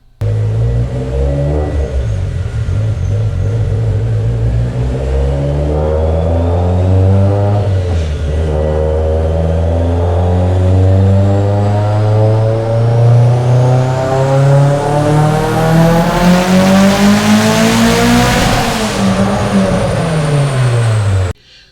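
A turbocharged Mitsubishi Lancer Evolution X with a Garrett G35-1050 turbo, running increased boost, revs hard and climbs through the gears, loud and close, pitch rising steadily with brief dips at each shift and a whooshing rush near the top.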